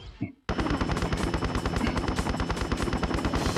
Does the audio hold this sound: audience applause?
no